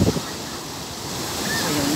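Surf rolling onto a Zambales beach, a steady broadband wash of breaking waves with some wind buffeting the microphone, close and continuous.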